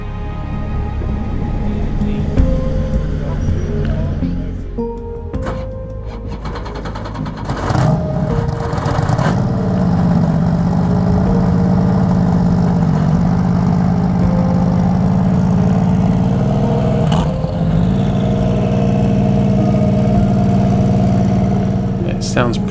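An Aston Martin Vantage racing car engine cranks and fires after several seconds, then settles into a loud, rough, steady idle close by, with people talking nearby.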